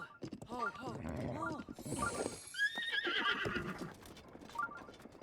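A video game horse whinnies in long quavering bursts alongside clopping hooves, with a voice talking over it.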